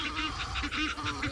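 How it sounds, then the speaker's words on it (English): Egyptian geese honking at a water's edge on a South African safari, a run of repeated nasal honks in quick rhythm, fairly close and clear. "Egyptian geese."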